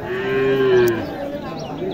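A cow at the Mahadebpur cattle market in Naogaon gives a single loud, sustained moo up close, with faint market noise in the background.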